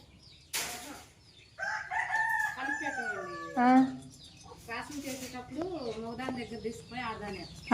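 Chickens on a Telugu poultry farm raising rabbit-breed hens cluck and a rooster crows in several long calls, close and fairly loud, with other fowl chattering and bird chirps in between.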